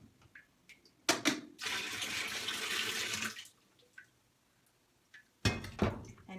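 A pot of liquid dye is poured into a washing machine drum, a rushing splash lasting about two seconds between clunks of the pot against the machine, with quiet gaps and another knock at the end.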